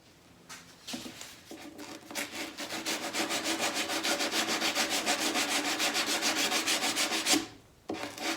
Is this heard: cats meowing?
no